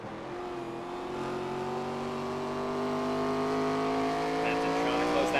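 Several race cars revving together in iRacing at Indianapolis Raceway Park, overlapping engine tones rising steadily in pitch, a dense continuous roar growing slightly louder.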